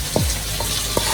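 Shallots and garlic fry in hot oil for a moong dal sambar tempering, a soft steady sizzle with a few brief stirring scrapes, close and without talk.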